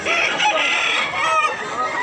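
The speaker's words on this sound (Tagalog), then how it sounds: "Daghan jud kay manok diri mga idol." Several hens cluck and squawk close by as a rooster's crow rises and falls among them, a lively, continuous flock sound at a chicken seller's in Mantalungon, Barili, Cebu.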